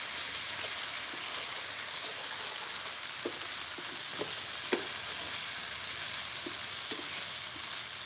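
Garlic sizzles steadily in a hot pan for spaghetti and meatballs, a constant bright frying hiss with a few small pops and crackles scattered throughout, close and fairly quiet, with no talking.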